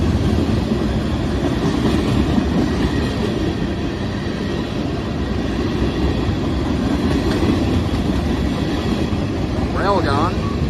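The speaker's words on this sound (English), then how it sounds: "The manifest was nothing really particularly special, but it had some pretty good sound on those motors." A freight manifest train on the Pittsburgh line rolls past with its locomotive motors growling, a loud, steady rumble and rail roar filling the whole stretch, with a brief higher tonal sound near the end.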